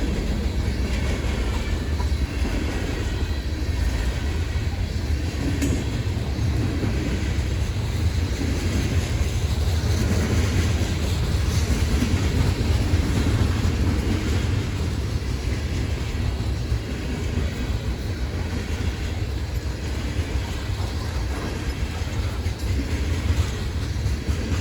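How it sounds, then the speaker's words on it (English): A train rumbles past at close range on street-running track, a loud continuous roar with rhythmic rattling of wagons that holds steady throughout. "train passing by"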